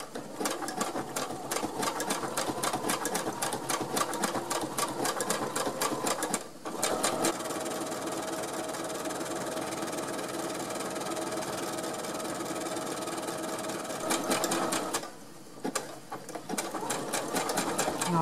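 A sewing machine runs fast and steady on socks with a combined straight and overlock stitch, a close, rapid rattling hum broken by two brief pauses.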